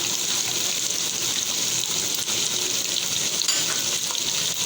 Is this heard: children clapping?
no